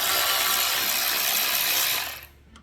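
A ratchet wrench with a deep socket turning a fastener on a custom bike build, a dense rapid clicking whir up close that runs steadily then stops abruptly, alone without talk.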